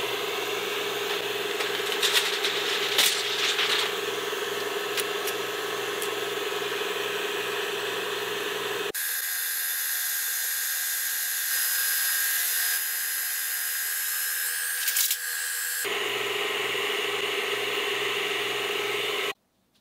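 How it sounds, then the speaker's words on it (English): Atomstack A20 Pro laser cutting thin metal sheets of 0.02 and 0.05 mm: a steady close hum and whine with a fan-like hiss, shifting tone midway when the low rumble drops away, then returning before ending abruptly. "So let's go ahead and try to cut these two pieces of metal"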